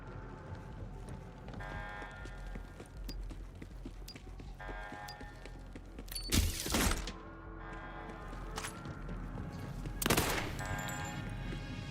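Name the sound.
SMG gunfire in the video game Borderlands 4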